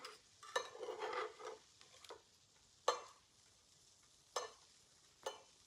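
Eggs frying in butter in a pan, a faint steady sizzle with clinks and scrapes of a utensil checking and stirring, a few sharp taps standing out, quiet and close with no talking.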